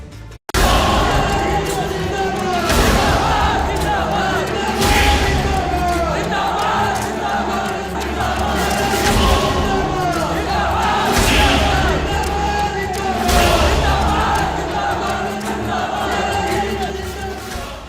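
A large crowd gathered at an Asaduddin Owaisi political rally in Bahraich, Uttar Pradesh, roars and cheers loudly and continuously, with surging waves of shouting and chanting throughout.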